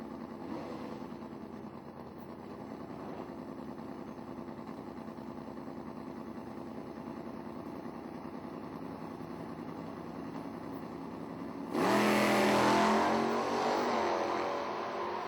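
Drag racing vehicles, including a Chevy pickup truck, idle at the starting line with a steady low engine rumble, then one engine suddenly revs hard near the end, loud and close.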